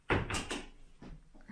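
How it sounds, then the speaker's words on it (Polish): A room door in a hotel or holiday apartment is opened, making a close, soft thump and rattle followed by fainter knocks as it swings, in an otherwise quiet room. "Michael, proszę bardzo, otworzy drzwi."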